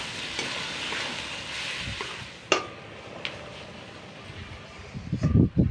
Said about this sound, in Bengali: সমস্ত মশলাটাকে আরও বেশ কিছু সময় কষিয়ে নেব।